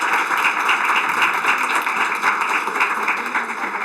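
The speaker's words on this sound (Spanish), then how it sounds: "Recibámosle con un fuerte aplauso" Audience applause welcoming a speaker at a lecture, dense steady clapping from a crowd that stays even for a few seconds.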